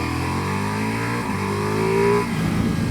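A 2021 Ducati Multistrada V4S motorcycle engine revs hard and climbs in pitch, with a quick dip during a quick-shifter gear change, then pulls on strongly, loud and close.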